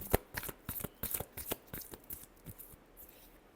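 Tarot cards shuffled by hand in a quick run of crisp riffling taps, close and fairly quiet, with no talking.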